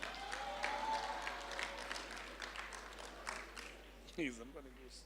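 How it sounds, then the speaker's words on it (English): Audience applause for Mr. Ngokwana at a 2022 choral event, a steady wash of clapping from a crowd with voices and a brief vocal sound rising near the end. "let's give Mr. Ngokwana a big round of applause"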